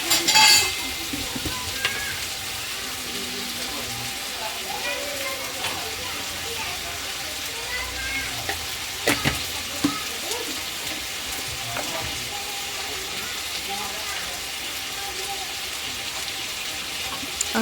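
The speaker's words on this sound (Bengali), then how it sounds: "কালার হয়ে গেলে আমি মটরশুঁটি আলু দিয়ে কষে নেব।" Peas and potatoes sauté in a pan with a steady low sizzle and scattered stirring clicks, an occasional louder scrape standing out over the continuous frying.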